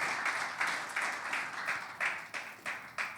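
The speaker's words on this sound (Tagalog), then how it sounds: "Can we give the Lord a clap offering of praise?" Congregation at a church worship service clapping together in praise, a steady, dense round of applause with rhythmic peaks, fairly close and alone without voices.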